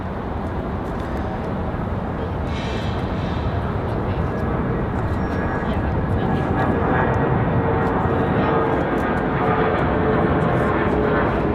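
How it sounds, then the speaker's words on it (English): A Boeing 737 jet lands at Raleigh-Durham airport, a loud, steady engine roar with broad rushing noise filling the whole stretch, heard from an outdoor spotting spot. "Gonna stick with the 737 arrival."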